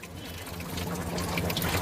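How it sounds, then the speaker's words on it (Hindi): Old coolant, mostly water, draining from a Toyota Fortuner engine during a routine service, a steady close pouring and splashing of liquid that swells slightly, no voices. "ये भैया कूलेंट निकल रहा है"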